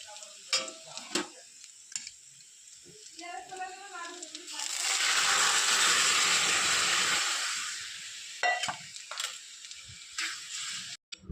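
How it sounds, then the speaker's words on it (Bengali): Bitter gourd and potatoes fry in a pan, a loud sizzling hiss swelling in the middle between sharper stirring clatters, with a voice talking faintly around it. "এখানে উচ্ছে আলু ভাজা হচ্ছে"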